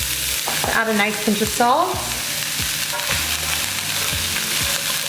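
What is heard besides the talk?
diced yellow onions sizzling in a pan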